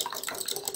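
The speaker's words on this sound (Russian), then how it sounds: "Воду добавила тепленькую из чайника, не горячую." Warm water from a kettle streams and splashes steadily into a container for a moment, a soft continuous pouring sound with no talking.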